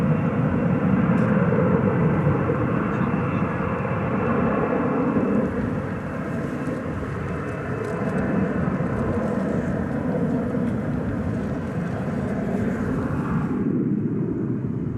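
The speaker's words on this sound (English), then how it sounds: "It's going to Ontario, California on that Airbus A320neo." At night at DFW Airport, an Airbus A320neo airliner bound for Ontario, California fills the air with a broad, steady engine roar that holds strong throughout before cutting off abruptly at the end, with no voices.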